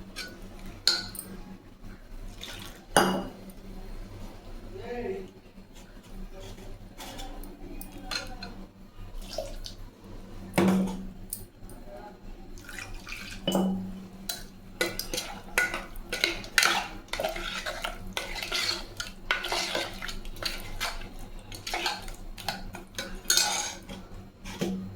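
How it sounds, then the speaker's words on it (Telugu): A spoon scrapes and clatters against a pot as masala curry cooks, with irregular metallic knocks and stirring scrapes over a low simmer, close and fairly busy throughout. "ఇలా అన్నీ కలిపేసుకొని మసాలా వాసన పోయిందాకా కొంచెం మళ్ళీ ఉడికించుకోవాలండి"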